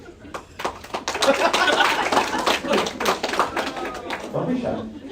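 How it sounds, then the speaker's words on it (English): Comedy club audience at a stand-up crowd work show clapping, with sharp individual claps rising into scattered applause, mixed with chuckles and a voice talking close over it. "Round of applause,"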